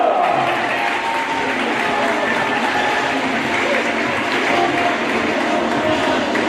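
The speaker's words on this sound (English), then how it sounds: "A round of applause for Viking senior Carlos Castaneda." Continuous applause and crowd noise filling a large gym at a high school basketball game, sustained and even throughout, with a few scattered cheers.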